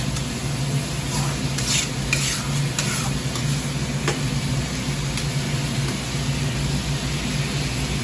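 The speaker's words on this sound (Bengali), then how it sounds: "মশলাটা ভাজা হয়ে গেছে" Prawns frying with ground ginger and cumin masala in a pan, a steady close sizzle with repeated scraping stir strokes running throughout.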